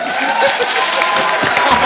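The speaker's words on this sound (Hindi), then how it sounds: "जोरदार ताली हो जाए" Studio audience applause on a comedy show, a brief dense burst of clapping and crowd noise, loud and close, fairly even over its short length.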